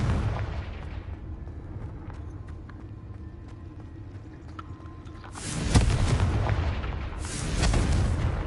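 Confringo fire curse explosions in Hogwarts Legacy, a fire spell detonating as two loud, broad bursts, the first around the middle and a second shortly after, over a steady rumbling game ambience with no talking.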